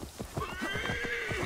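A horse in the Assassin's Creed Valhalla video game gives a close, loud whinny that rises and holds, with hoof clip-clops beating steadily underneath throughout.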